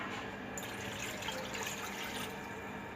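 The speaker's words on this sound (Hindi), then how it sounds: "एक गिलास पानी का हमने डाल दिया है" A glass of water poured into a pot for dhaba-style dal fry, heard as a soft continuous splash and trickle nearby, quiet and steady for about three seconds with no voices.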